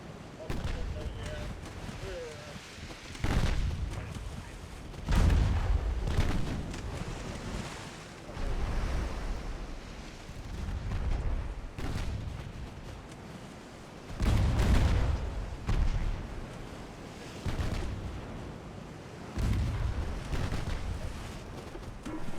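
Naval gunfire and shell impacts in the warship game Ultimate Admiral: Dreadnoughts, with high-explosive rounds striking a target. Heavy booms recur every few seconds over a constant low rumble.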